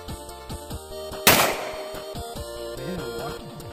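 A single sharp gunshot from an Astra Model A-100 9mm pistol cracks loudly and close at an outdoor shooting session, followed by a short decaying echo, with talk heard before and after the shot.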